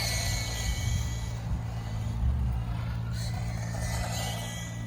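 YZ10 RC car running on a track during a shakedown, a steady low engine drone carried along at moderate volume without pause and no talk over it.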